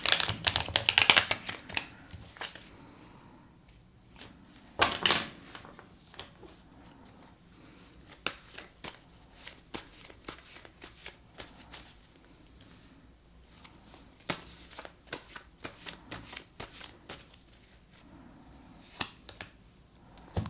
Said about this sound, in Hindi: मैं इसको एक बार शफल कर लेता हूँ